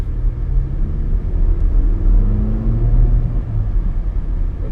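A 2019 Range Rover Velar P300 with a 2-litre turbo engine gives a loud, deep rumble from inside the cabin, its tone rising and falling steadily as it pulls.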